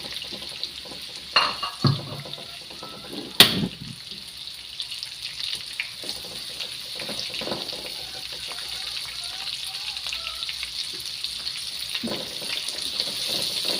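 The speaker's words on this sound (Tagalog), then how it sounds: "Ngayon naman po ay gigisa po natin itong bawang." Garlic and onion sautéing in rendered pork fat in a pan, a steady close sizzle with a few sharp clatters and stirring knocks early on, continuing alone without talk.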